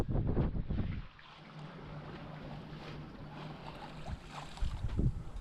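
Wind blows steadily across a sailing boat under way, with a strong gust buffeting the microphone at first, then a low continuous rush with a faint tonal hum underneath.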